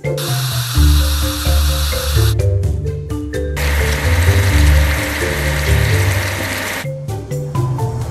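Water sprays in a steady, loud hiss over the red off-roader in a dinosaur-themed children's game, cutting off and resuming in long bursts over an upbeat background melody.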